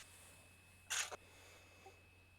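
A single short sneeze bursts out once, fairly loud against a quiet room background with a steady faint hum, then fades with a brief trailing catch.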